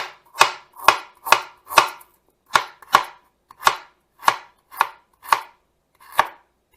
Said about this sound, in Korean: 그 다음 생강 얇게 썰어주시면 돼요